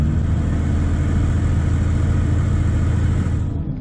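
A GPS-controlled bulldozer pushing dirt, its engine a loud, steady low rumble that holds constant before easing off at the very end.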